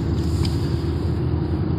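Steady low road roar from a car running on remanufactured BF Goodrich Volteran tyres at around 3000 rpm, a dense continuous rumble heard from inside the cabin, fairly loud and unbroken, with no talking.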